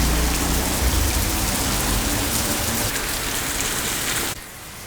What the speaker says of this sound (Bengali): এই যে সব এত বৃষ্টি যে রিক্সাগুলোতে ছাউনি দিয়ে দিচ্ছে